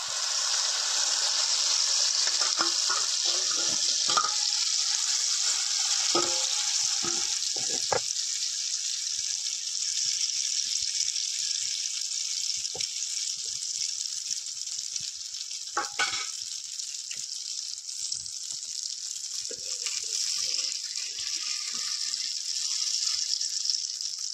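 Egg mixture fries on an oiled griddle in a village kitchen, giving a steady, close, bright hiss that carries throughout, with occasional soft scrapes and taps and no talking.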